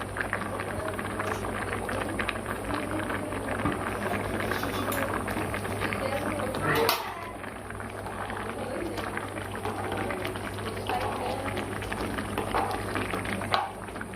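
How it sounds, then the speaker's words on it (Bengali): Continuous low bubbling of pulao rice boiling in a covered pot on the stove, with a steady background hum and a short clatter midway. "ফুটছে"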